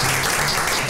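A board of directors stands and claps at a county meeting, a dense, steady burst of applause filling a brief moment.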